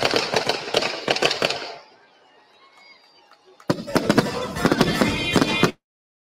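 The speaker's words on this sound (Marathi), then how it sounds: "61व्या वाढदिवसाची ही 61 तोफांची सलामी आता आपण बघूया" Rapid volleys of loud booming blasts from a 61-cannon ceremonial salute, a dense burst, then a pause with distant crowd noise, then another barrage ending abruptly.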